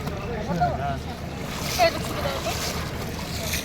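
Water splashes and sloshes around a bather taking a holy dip in the river at the Maha Kumbh, with continuous churning noise under nearby talking.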